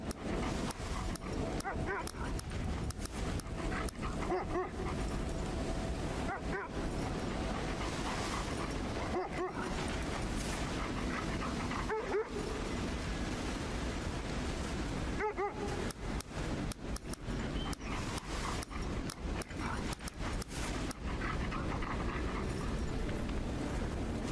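A dog in the video game Kona II: Brume barks and whimpers repeatedly in short yips over a constant background of wind and game ambience, fairly close and moderately loud.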